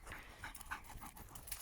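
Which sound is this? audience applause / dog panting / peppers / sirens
dog panting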